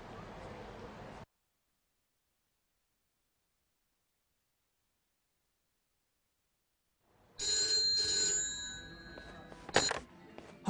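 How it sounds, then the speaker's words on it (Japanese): A telephone rings in the video game Yakuza: Like a Dragon, bursting in loud and close after a long stretch of silence and trilling steadily until the end. "俺宛に電話がかかってきた。"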